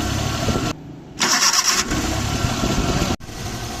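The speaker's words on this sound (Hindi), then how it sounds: "मैं गाड़ी को स्टार्ट करूंगा, आपको फॉल्ट दिखाऊंगा" Suzuki Ravi pickup with a misfiring engine cranking and catching, then running at a rough idle, loud and close, with no talking.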